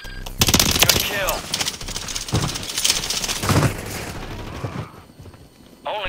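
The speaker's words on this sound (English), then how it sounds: "they shooting at y'all" Bursts of rapid gunfire from a multiplayer battle-royale shooter, dense volleys mixed with voices talking over the top, fairly loud throughout before dropping off near the end.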